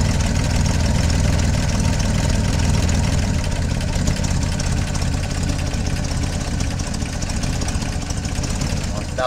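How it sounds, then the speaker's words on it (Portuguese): Chevrolet C10 pickup engine idling slowly with the microphone held right by the motor, a steady low rumble running loud and unbroken throughout. "Olha só a marcha lentinha que tá dando aqui. Vou pôr aqui pertinho do motor."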